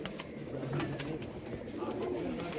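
Domestic flying pigeons kept by a pigeon fancier coo in low, soft, continuous murmurs close by, over steady background noise.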